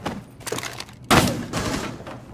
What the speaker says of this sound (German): Die schießen auf deine Füße